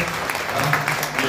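An audience at a tribute evening at Ateneo Guaraní gives performer Omar Rivas a loud, dense burst of applause, heard close and brief.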